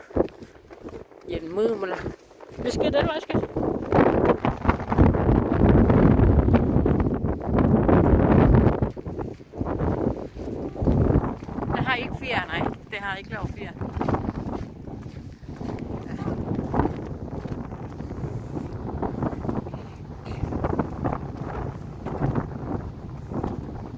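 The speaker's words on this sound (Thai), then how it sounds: "ฟังเสียงลม" Strong wind gusts outdoors on a walk to watch birds and water in Denmark, roaring across the microphone in heavy buffeting bursts that ease toward the end.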